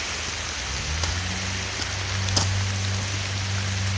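Steady rain falls on autumn trees beside a covered bridge in Vermont, a constant close hiss with a faint low hum underneath and a couple of brief knocks, no talking.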